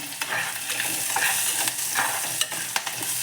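Chopped onions and green chilies with salt sizzle in a hot pan while being stirred, with a steady close frying hiss broken by a few sharp scrapes.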